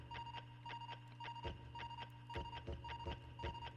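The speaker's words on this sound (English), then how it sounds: "And I apologize for the beeping." Repeated electronic beeping during a Jumping Flash! video game session, a steady train of short tonal pips over a low game hum, faint and without any talking.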